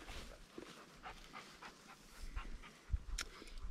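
Panting from a big dog close by, a steady run of soft rapid breaths over faint outdoor background, with a few louder thumps near the end.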